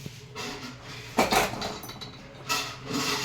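A metal kadai is set down on a kitchen stove, giving a couple of clanking knocks and a hollow rattle against the burner.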